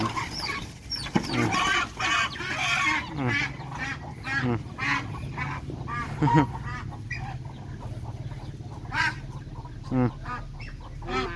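Ducks quacking and honking in a busy flock alongside chicken clucks, with repeated calls near and far over low rural background noise, no talk.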